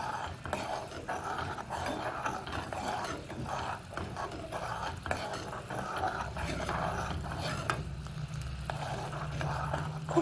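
Kesraj leaf juice sizzles in hot oil while being stirred constantly to make a hair oil, giving a steady, busy crackle with scraping stir sounds throughout and no talk.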